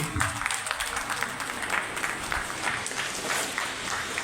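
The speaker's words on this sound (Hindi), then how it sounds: "एक बार तालियां बजा दीजिए जोर से।" A crowd claps and applauds continuously, a dense, steady wash of clapping with faint voices mixed in.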